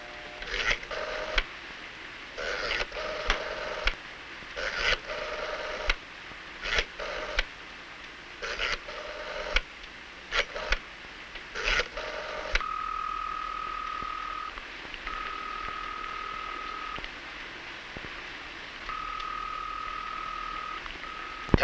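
An old 1960s telephone is dialed in a run of repeated clicking bursts, followed by steady ringback tones through the receiver, faint and close.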